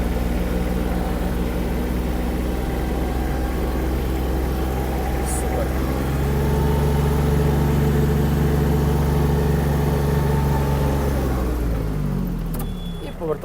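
An Iseki TG-27 Japanese mini tractor engine runs steadily at close range while the tractor is driven and steered, with a humming drone throughout and a voice talking over it.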